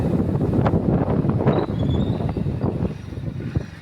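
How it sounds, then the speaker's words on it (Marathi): Rough wind buffets the microphone in gusty rumbles and whooshes, a constant close roar with no talking. "वाऱ्याचा आवाज येते, वाऱ्याचा आवाज येतो"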